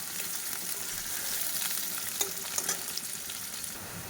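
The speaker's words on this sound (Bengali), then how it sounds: "পেঁয়াজটা একটু লাল করে ভেজে নিই" Onions fry in hot oil with a steady close sizzle and occasional stirring scrapes, no voices.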